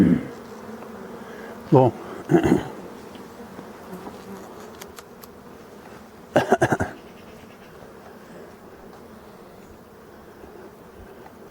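Honeybees buzz steadily around a hive shielded by strawberry netting against Asian hornets in Brittany, a continuous insect hum running throughout, with brief bursts of talk and handling noise over it.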